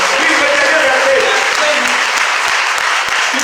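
A church congregation at a Sunday service applauds in acclaim of the Lord, sustained loud clapping from a close crowd filling the whole stretch without pause.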